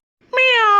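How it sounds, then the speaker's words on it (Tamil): A cat gives a single close, loud meow, a clear tonal cry rising then holding briefly, heard alone in a cartoon scene. "என்னைக்கும் இல்லாம பூனை சத்தம் வித்தியாசமா இருக்கு"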